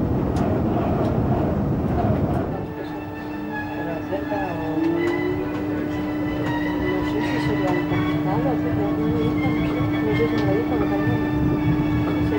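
A Renfe Cercanías commuter train with LZB train control runs along the track near Barcelona Sants with a loud, steady rumble and rhythmic clatter, a rising electric whine joining midway, and people's voices audible underneath.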